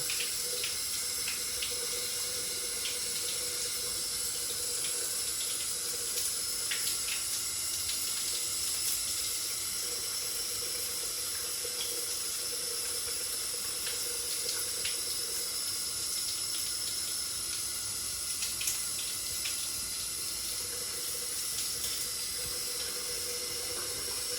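Steady, even spray from a shower head freshly cleared of lime and calcium deposits, a continuous close hiss of water running unbroken for the whole stretch with no talk.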